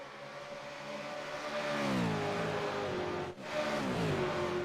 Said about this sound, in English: Love the sound of these V8s at flat chat around the banking